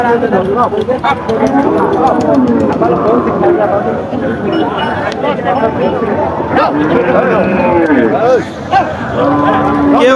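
Busy outdoor bullock market in Chaugachha: a dense crowd chatter of many traders' voices throughout, with occasional cattle lowing and a dog barking amid the noise.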